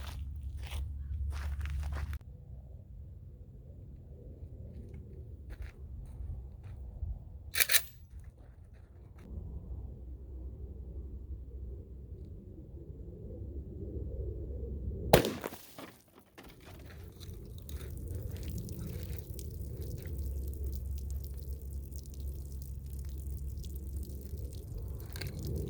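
A Zastava Z-Pap rifle with a 10-inch barrel fires a .223 Speer Gold Dot 55 grain soft point round into a water jug outdoors. One sharp, loud crack rings out midway over a low, steady rumble, with no talking.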